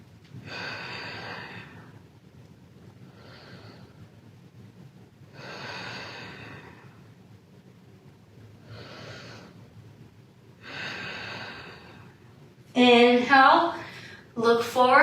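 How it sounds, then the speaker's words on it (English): Five slow, deep breaths drawn in a gentle yoga forward fold, each a soft, airy rush lasting about a second with quiet pauses between, followed at the end by a voice speaking. "Go ahead for your 3 deep breaths"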